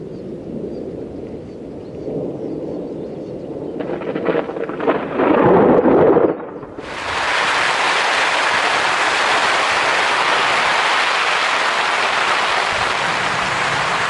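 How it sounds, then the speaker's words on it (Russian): A thunderstorm with heavy rain and strong wind sweeps over a picnic tent shelter, starting with a low rumbling of thunder that builds, then giving way to a steady loud hiss of downpour drumming on the canopy. "Вот начался дождь, жуткий ветер, гроза, и мы находимся внутри, гремит гром"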